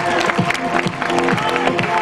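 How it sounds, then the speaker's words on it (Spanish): A crowd at a transport workers' festival applauds and cheers for pageant contestants in swimsuits, clapping blended with background music and voices, loud and continuous. "Y las vamos a despedir con un fuerte aplauso."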